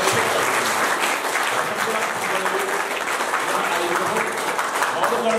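Audience at a yoga camp applauding, a dense, steady wash of many hands clapping together, loud and close, continuing without a break.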